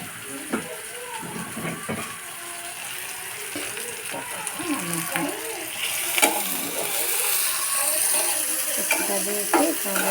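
Chopped onion and garlic sautéing for a mixed-vegetable dried fish dish, a continuous sizzle with scraping spatula strokes and occasional clatter, close, and a faint voice now and then underneath.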